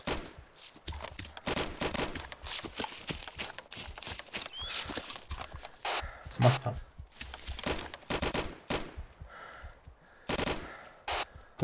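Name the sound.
gunfire in the video game ArmA 2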